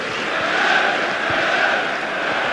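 Rangers supporters applaud a new signing, Garner, coming on at a Kilmarnock v Rangers football match, a steady dense roar of clapping and crowd noise filling the stadium throughout.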